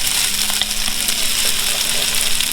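Bean sprouts stir-frying in a hot pan for shrimp pad thai, a steady loud sizzle with scraping and stirring, no talking.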